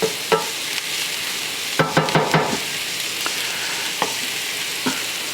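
Vegetables sizzling and sweating down in a pan over medium-high heat, a steady fry hiss broken by scraping stirs and clinks of a utensil against the pan.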